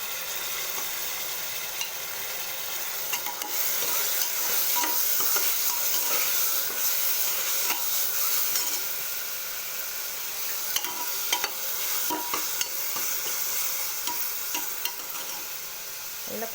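Onion with ginger and garlic sautéing in a pan for vegetable biryani, a steady sizzle broken by repeated scraping and stirring clatters, close and continuous with no voices.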